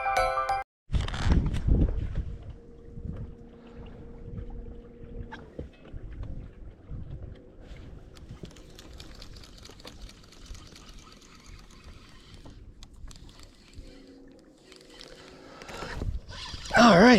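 A small fishing boat speeds across Leggat Lake under steady motor and wind noise, with water slapping the hull and a loud gusty rumble near the end.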